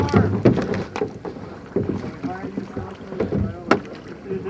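Canoe paddles splash and knock on a big lake during a group outing, with rhythmic strokes and water sloshing close by while several people talk and call out over light wind.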